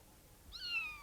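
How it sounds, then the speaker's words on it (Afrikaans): A single cat meow rises and then falls. It comes clear and moderately loud after about half a second of near silence, with no voices. "Dis 'n kat!"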